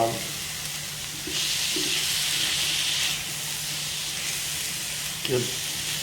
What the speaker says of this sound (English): There you go, the onions have been caramelizing